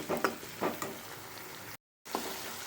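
Onion and tomato sauté in a pan for brinjal curry, a soft continuous sizzle with a few stirring scrapes near the start, cut by a brief dropout before the frying resumes.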